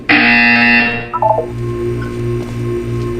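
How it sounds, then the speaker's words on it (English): A loud electronic buzzer from the video game Portal 2 blares steadily for about a second, followed by a short descending run of beeping tones over a low background hum. "You will hear a buzzer."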